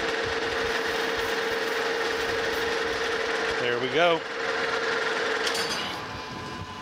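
Steady machining hum of a lathe turning a bronze bushing for a casting repair, continuous and even throughout, with a brief rising squeal from the cutter midway and a short spoken remark.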